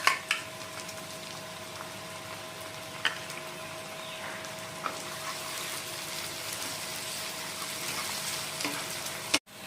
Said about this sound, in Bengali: আর এখন এর মধ্যে দিয়ে নেব 2 চামচ আদা রসুন পেস্ট।